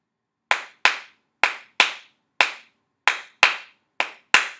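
A music teacher claps a tricky rhythm alone in a quiet room: nine crisp, close handclaps in an uneven pattern, with longer and shorter gaps between them and nothing else heard.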